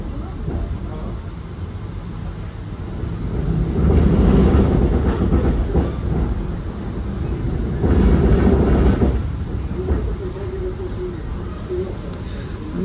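A new Moscow commuter electric train rolls along the rails, a steady rumble with rhythmic clickety-clack swelling in two louder passages, close and continuous throughout.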